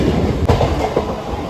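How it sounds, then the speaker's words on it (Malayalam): A crowded Chalakudy MEMU passenger train running, heard from inside with a loud continuous rumble and rattling wheel clatter, one sharp clack partway through, no voices. "ഫൈനലി നമ്മൾ ട്രെയിനിലാണ് പോകുന്നത്"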